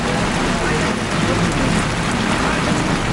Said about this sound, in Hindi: अब वहां सिर्फ बारिश की बूंदों का शोर सुनाई दे रहा है